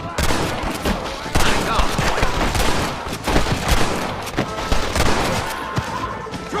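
A Red Dead Redemption gunfight: rapid, loud gunshots crack in an irregular volley, some overlapping in quick bursts, with faint voices mixed underneath throughout.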